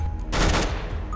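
Short burst of UMP submachine gun fire in Counter-Strike: Global Offensive, a quick volley of close, loud shots lasting under half a second amid game ambience.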